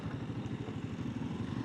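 A Royal Enfield Guerrilla 450 motorcycle rides along with a steady, throbbing engine note and a rumbling pulse, close and moderately loud.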